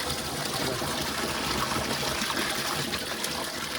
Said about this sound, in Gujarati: જો ટાંકો ભરવા માટે પાણી કાઢ્યું તો અહીં પાણી આવવા મળી ગયું